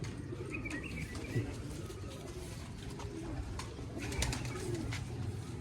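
Reshmi pigeons coo in soft repeated calls, with a few chirps, over a low steady background hum.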